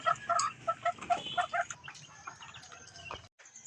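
A farmyard hen clucks in a quick run of short, rhythmic calls close by, followed by softer, scattered fowl sounds and faint background noise.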